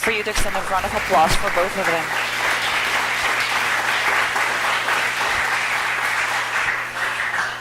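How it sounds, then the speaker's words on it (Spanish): Audience at an international educational leadership symposium in Costa Rica applauding two doctors, sustained dense clapping after a brief spoken moment at the start, steady and fairly loud before tapering at the end. "Les quiero pedir un aplauso para ellos dos."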